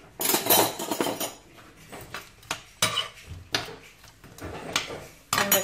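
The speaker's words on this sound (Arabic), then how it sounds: "كنشحرهم شويه." Shrimp and peas being sautéed in oil in a frying pan: quiet clinks and scrapes of a utensil against the pan arrive in irregular bursts, with soft frying noise between them and no talking.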